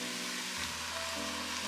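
Cubed tofu sautéing with vegetables in a pan, a steady soft sizzle that thickens slightly partway through, close and continuous with no talking.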